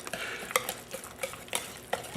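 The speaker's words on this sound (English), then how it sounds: "we're just going to mix them all together" Ingredients for a braised beef short rib and sweet potato squash bake are stirred together in a pan, with soft scraping strokes and occasional utensil clinks over a quiet sizzle, close and low in level.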